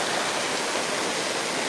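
A tipping bucket at a water park at the Hyatt Ziva Riviera Cancun resort dumps its load with a loud, continuous, hissing roar of crashing water that fills the whole brief moment.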